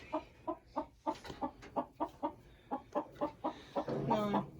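A broody hen lifted out of a nesting box gives a steady run of low, rhythmic clucks about two per second, close by, rising into a louder, raspier fuss at the end.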